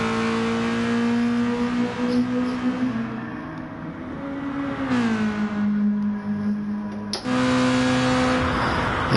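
A race car in a racing video game on the Sardegna circuit drones with a steady, loud engine hum whose pitch dips and climbs as it shifts and comes through, with no talk.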